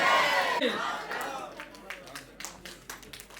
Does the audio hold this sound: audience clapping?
yes